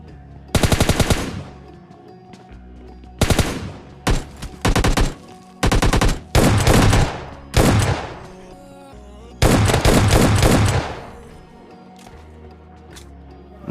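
Bursts of automatic gunfire in PUBG Mobile Lite, several loud, close rapid-fire volleys of varying length separated by short pauses, with no talk.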